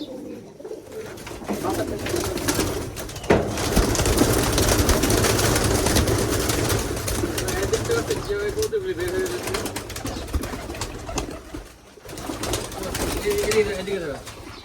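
Native pigeons at a pigeon farm coo in soft, repeated rolling calls under a steady background rumble and occasional voices.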